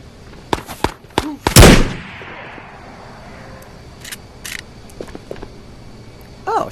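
Gunfire in the video game Ghost of Tabor: several sharp close shots crack in quick succession, one loud blast followed by a decaying echo, then scattered fainter distant pops.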